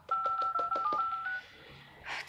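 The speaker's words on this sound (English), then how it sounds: "we have the phone dialer here" Keypad tones from the phone dialer of a Sony Xperia E running Firefox OS, a quick run of about six short beeps followed by a few more, close and clear.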